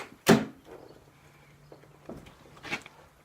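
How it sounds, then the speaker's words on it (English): A single solid door thud opens the sequence, followed by a few softer knocks and a second muffled clunk near the end, close by with no talking. "I gotta love the door sound it makes"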